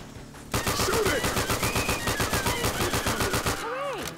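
Sustained rapid-fire automatic gunfire in Left 4 Dead 2, played on a Crash Bandicoot custom campaign, loud and close, a steady three-second burst of rhythmic shots followed by sweeping game sounds.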